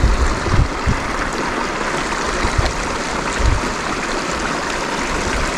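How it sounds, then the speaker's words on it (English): A clean mountain stream on the Colorado Trail flows steadily nearby, a broad constant rushing and gurgling of water with no one talking. "this is the nicest stream we've drank from all journey"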